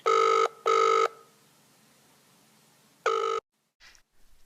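A telephone rings while a taxi call is being connected, two quick bursts of a bright electronic ring, a pause, then one more burst, each loud and clean with no voices.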